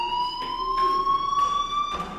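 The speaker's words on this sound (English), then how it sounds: "do you hear that fire alarm?" Fire alarm in the Life Is Strange video game, a loud, steady electronic tone sweeping slowly upward with bright harmonics, pulsing in regular bursts and heard alone.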